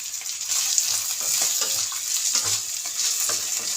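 Green chillies, green peas and potatoes frying in a pan for avalakki, a bright continuous sizzle with soft scraping stirs, close and fairly loud, no voices.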